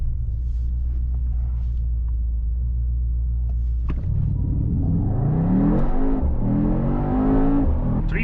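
A Mercedes-AMG GT 63 S E Performance hybrid on cold tires sits at a low rumbling idle, then launches into a loud, close, rising engine roar as it accelerates hard through the gears; no talking.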